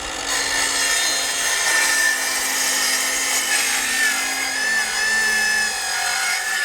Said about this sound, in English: we're going to cut this 2x2 into 6 feet